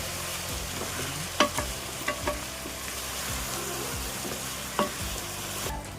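Dried fish fry in a pan as chili powder and turmeric are stirred in. A loud, continuous sizzle carries a few sharp scraping strokes of the spoon, heard up close.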